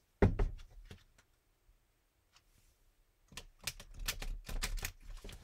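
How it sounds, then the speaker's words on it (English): Quick bursts of riffled card shuffling, one at the start and a longer flurry near the end, with a quiet pause between. "Then I'll back away from the mic and do one more shuffle."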